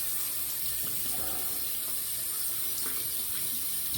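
Tap water runs steadily into a sink to wet a Feather DX shavette razor blade, a constant even splashing hiss that fills the whole stretch with no pauses and no speech.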